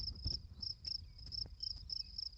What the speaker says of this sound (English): The crickets are the loudest thing up here besides me.